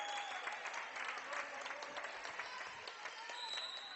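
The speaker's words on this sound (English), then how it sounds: "Nice round of applause from the crowd" Spectators at a high school volleyball match between Los Gatos and Mountain View give a moderate, fairly distant round of applause, the clapping mixed with crowd murmur and gym noise, steady for several seconds.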